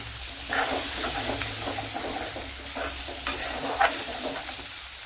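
Onion and chicken fry together in a pan for a chicken thoran, giving a steady close sizzle and hiss with a few soft stirring scrapes and taps, with no talking.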